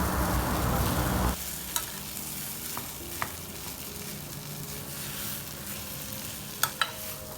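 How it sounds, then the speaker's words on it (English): Mashed potatoes sizzle and fry with masala in a pan, a steady hiss as they are stirred, punctuated by a few sharp clicks of the spoon against the pan. "Now add the mashed potatoes and mix it well with the masala."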